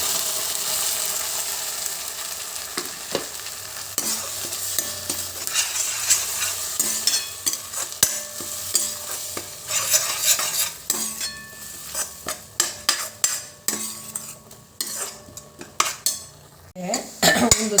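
Tomato paste fries in hot oil while a spoon stirs and scrapes the pan, giving a soft continuous sizzle broken by frequent clinks and knocks of metal on metal that grow busier and louder toward the end.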